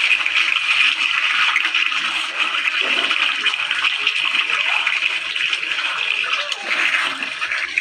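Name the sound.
pouring water into chicken curry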